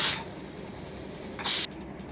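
A pressure cooker boiling potatoes lets out short bursts of steam, one brief hiss at the start and a louder, sharper release near the end, with quiet between.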